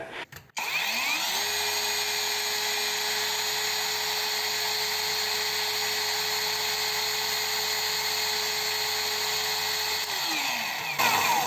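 A SHIDOKU SH PG2 cordless telescopic 12-inch chainsaw spins up, holds a steady high-pitched whine for about nine seconds with no cutting, then winds down. The motor sounds close, loud and alone.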